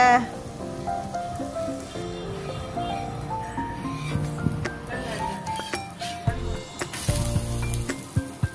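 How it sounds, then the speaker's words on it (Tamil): Adai dosa batter sizzles on a hot griddle, a hissing fry that turns loudest near the end, with someone talking over it and a few clinks. "தோசை கல்லை பற்ற வைங்க. தோசையை ஊற்றுங்க. பெரட்டி போடுங்க."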